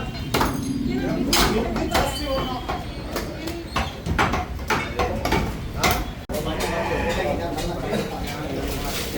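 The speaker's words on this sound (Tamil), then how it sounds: "குர்பான் கொடுத்த கறி பயங்கர கட்டிங் போயிட்டு இருக்குது பாருங்கள்" A butcher chops Qurbani goat mutton at a Bakrid Eid gathering, with sharp chopping thuds repeating irregularly through a steady hubbub of crowd voices and talk.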